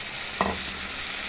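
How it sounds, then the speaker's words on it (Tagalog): Mussels hit a hot pan with tomatoes for sautéing, giving one sudden sizzling burst followed by a steady low frying hiss, fairly faint and without voices. "Lagay natin yung tahong. Igisa natin."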